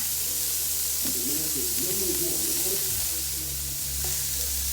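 Onions sizzling and caramelizing in a pan for teriyaki kale and beets, a constant close hissing fry with stirring scrapes and a faint voice murmuring under it.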